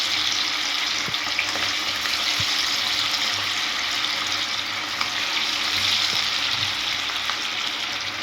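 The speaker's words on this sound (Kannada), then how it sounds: "ಪಟ್ ಪಟ್ ಅಂತೇಳಿ ಕಬಾಬ್ ಕರಿ ನೋಡ್ರಿ" Chicken kabab frying in hot oil, a constant loud hissing sizzle with occasional soft pops and clinks, close up.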